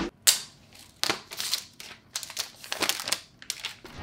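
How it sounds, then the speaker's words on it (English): Crisp crinkling of plastic film being peeled off a new iPhone 12 Pro Max, in several close, sharp bursts with short pauses between, no talking. "one of the most satisfying parts about the new iPhones is the removal of the plastic"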